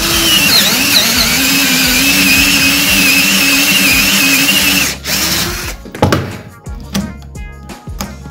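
A power drill grinds continuously at close range for several seconds through the key cylinder of a bike lock held in a vise, then stops, followed by a few metallic clunks and rattles.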